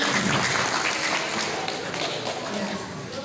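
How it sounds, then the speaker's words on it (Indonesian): Applause at a school quiz competition on national insight, a dense, steady patter of many hands clapping with crowd murmur mixed in, fairly loud throughout. "Tepuk tangan."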